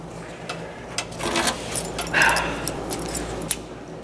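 A spare set of car keys for a 1960 Chrysler 300F coupe jangles in several short metallic rattles close by, over quiet room noise with no speech.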